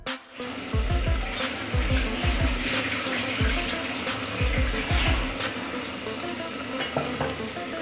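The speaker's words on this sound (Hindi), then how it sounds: "अब इसमें पानी शामिल करेंगे ताकि ये टिंडे जो हैं वो अच्छी तरह से गल जाएं।" Water is poured into a hot cooking pot of tinda (round gourd), setting off a loud, steady sizzle with repeated clanks and stirring scrapes throughout, with no talking.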